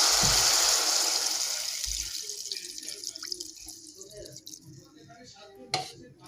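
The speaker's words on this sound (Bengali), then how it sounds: "আমি জল দিয়ে দিলাম এবারে" Water poured from a vessel into a lightly cooked curry in a pan, a loud splashing gush at first that tapers into softer trickling and bubbling, close by.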